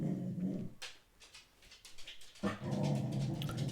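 An upset dog whimpers and whines close by, in short uneven bursts with faint panting between them and no people talking.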